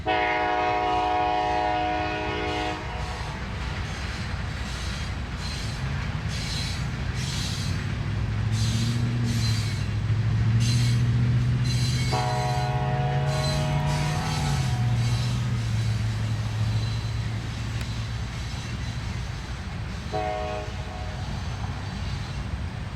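A CN eastbound freight train sounds its horn several times while a heavy rumble of rolling rail cars builds and passes close by, loud and continuous, near a rail grinder train.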